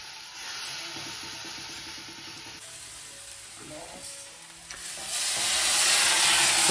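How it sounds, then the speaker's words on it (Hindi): Potatoes and sun-dried lentil nuggets fry in a pan in a Pahadi home kitchen, with a steady close sizzle that swells louder toward the end. "अपना आलू और बड़ी भुनने के बाद हल्का सा पानी डाला है"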